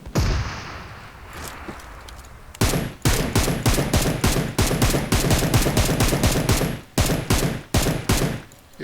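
Rapid bursts of automatic gunfire in the PUBG Mobile battle royale game, heavy weapon mode, starting after a quieter stretch and then hammering loudly and continuously in dense volleys with brief gaps.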